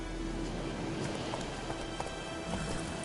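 Horse galloping in The Witcher 3, rapid hoofbeats drumming under a steady wash of rain-like ambient noise, even and continuous with a few sharper knocks standing out.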